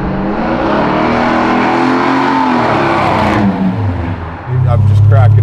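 A 600 horsepower big-block engine in a custom 1976 Buick Electra roars loudly under full throttle, its pitch climbing steadily before a sudden kickdown shift near the end, heard from inside the car.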